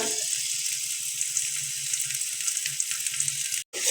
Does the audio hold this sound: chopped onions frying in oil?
yes